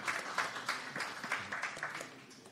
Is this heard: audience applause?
yes